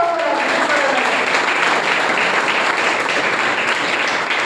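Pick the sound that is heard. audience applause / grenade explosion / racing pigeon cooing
audience applause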